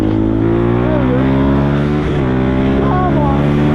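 A Benelli 125 motorcycle engine drones steadily at close range, loud and constant, with a slight pitch wobble partway through.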